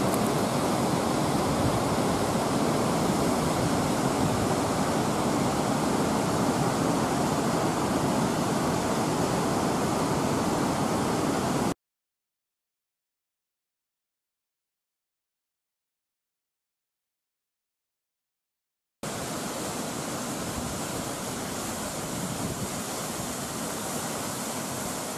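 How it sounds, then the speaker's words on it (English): A major rapid on the Snake River in the Yukon roars as steady, loud whitewater, cutting out to silence midway before the same continuous rushing resumes. "A major rapid begins right"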